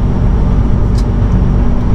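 A car rolls along near the vineyards with a loud, steady low engine drone and road rumble from inside the cabin, continuous throughout with no talking.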